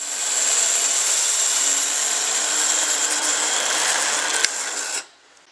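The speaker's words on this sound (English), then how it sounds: "I can use the ring saw handheld" A Taurus ring saw runs at a high, steady whine as it cuts stained glass for a front door panel, holding a continuous buzzing tone before switching off abruptly.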